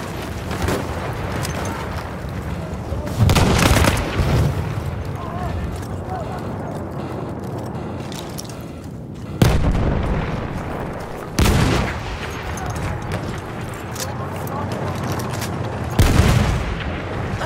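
Dynamite and bomb explosions in a tank combat video game, several heavy booming blasts spaced a few seconds apart over rumbling background noise, with a voice talking in between.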